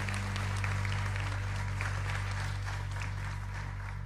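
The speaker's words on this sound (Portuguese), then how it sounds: "Uma salva de palmas ao Espírito Santo" A church congregation at an evening youth service claps together, a soft, steady ripple of applause heard at a distance over a constant low hum.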